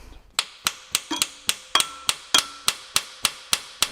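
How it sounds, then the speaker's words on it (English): Steady hammering on metal, about a dozen sharp ringing strikes at an even brisk pace, close and clear with short metallic decay, as an engine valve is hammered down in a seized 1960s luxury car engine. "We hammer the valve down and gently push it up with the piston."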